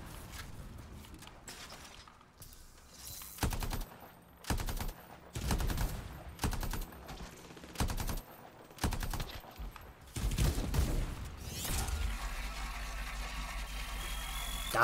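Bursts of heavy gunfire in the video game Anthem, several loud volleys in an uneven rhythm with short gaps, close and dominant, ending in a sustained roar.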